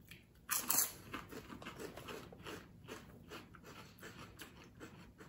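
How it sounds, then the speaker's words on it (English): Crunching on fishy shrimp-flavored chips, a sharp bite followed by repeated close, faint chewing crunches in a steady rhythm. "It's got like a nice like shrimp chip flavor"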